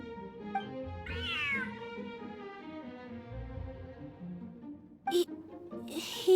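A cat meows in the Genshin Impact video game, one drawn-out meow near the start and a short cry later, heard over soft game music.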